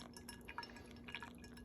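Hot water trickles and drips through a Kalita Wave pour-over coffee filter into a glass vessel, a faint, quiet stream of small liquid patters and light clinks heard close up without talk.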